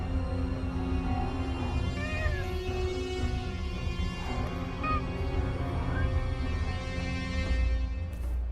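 A cat in the video game Forspoken meows several times at a middle distance over a steady game backdrop of ambient music and drone.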